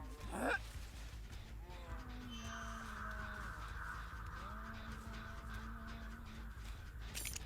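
Crows in a video game give a series of hoarse caws, several calls spread across a few seconds over a low, quiet background.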